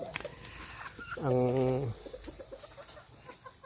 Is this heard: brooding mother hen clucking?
yes